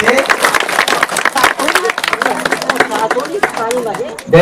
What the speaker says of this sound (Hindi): तालियां बजाओ सभी बच्चे।